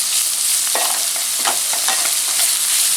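Chicken sautéing in a hot pan for home-style Hakka noodles, a constant bright hiss of sizzling oil with intermittent scraping stirs, close up and with no voices.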